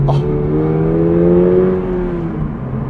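A 2022 Toyota GR86 engine drones steadily while the car is driven, its pitch rising slowly and then falling back. The hum is smooth and fairly loud inside the cabin, with a brief faint knock at the very start.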